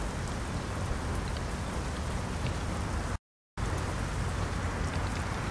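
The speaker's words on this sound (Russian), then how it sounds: "Опять дождь." Steady, dense rain from the Euro Truck Simulator 2 game, a continuous loud hiss that breaks off for a moment partway through.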